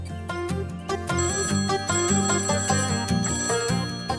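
A telephone rings with a repeated electronic, melodic ringtone, loud and close, carrying on without a pause and with no talking over it.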